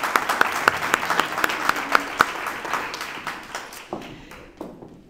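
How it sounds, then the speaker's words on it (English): An audience claps for a charity award recipient at a Rotary awards ceremony. The applause is lively, with sharp individual claps near the front, and thins out and dies away over the last second. "So let's give her a round of applause."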